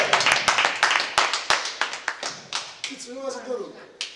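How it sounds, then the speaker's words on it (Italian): Audience applause at a mini-Z race award ceremony, a small crowd clapping with sharp, uneven hand claps in a steady patter, while someone talks over it. "Complimenti, un applauso."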